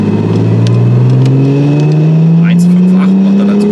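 An Audi S4 B5 sedan on a dyno at full throttle during a power run, its engine roaring loud and close with a steady rising pitch and no pauses.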